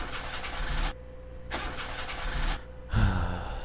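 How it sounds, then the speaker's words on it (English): A car engine in the Mermaid Swamp video game cranks in short bursts, separated by brief gaps, then catches into a rough rumble at the end, loud and close. "Hold on, I'll try the engine."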